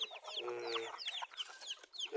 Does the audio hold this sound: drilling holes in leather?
no